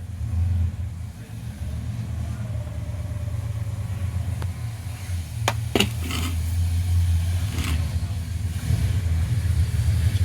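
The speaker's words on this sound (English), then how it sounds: "Going to be some background noise as they're moving cars in and out of the building here." Steady low car engine rumble fills an indoor space as cars are moved in and out of the building, with a few sharp clanks and knocks partway through.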